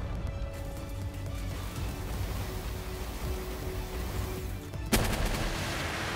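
Comet Beam attack in the creature game Palworld: a steady roaring, crackling blast that runs for several seconds, then a sharp loud impact burst near the end followed by continued rumble, with no talk.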